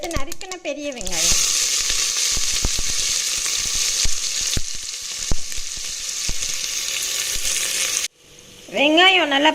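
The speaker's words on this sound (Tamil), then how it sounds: "அடுத்து நறுக்கின பெரிய வெங்காயம்," Chopped big onions fry in hot oil with a steady, loud sizzle and occasional stirring clicks, framed by a person talking briefly at the start and end.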